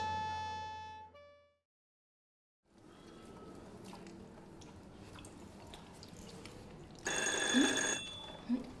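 Telephone ringing at a police station, an electronic ring heard at the start and again later, clear but moderate, amid quiet room noise.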